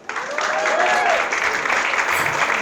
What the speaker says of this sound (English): Please give a round of applause to Samantha Ponder.